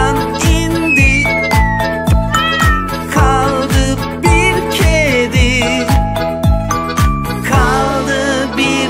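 Cat meows sung within a Turkish children's song, bright repeated melodic meow-like notes over a bouncy, loud musical backing.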